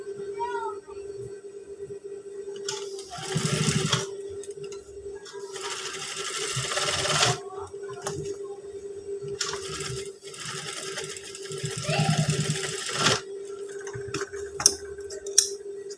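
A sewing machine stitches a trouser waistband in several close bursts of rapid mechanical whirring, separated by short pauses with small clicks and fabric handling.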